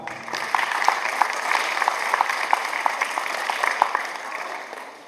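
A crowd claps steadily and evenly for several seconds at a community event in San Mateo, Valparaíso, Zacatecas, moderately loud, with no voices standing out.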